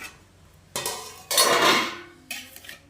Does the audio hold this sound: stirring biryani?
yes